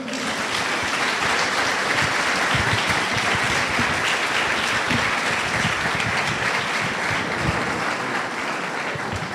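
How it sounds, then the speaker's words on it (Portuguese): A church congregation applauds together in a sustained, dense wash of clapping that stays steady and fairly loud throughout, with no speech over it. "Muito bem, aplaudam o Senhor."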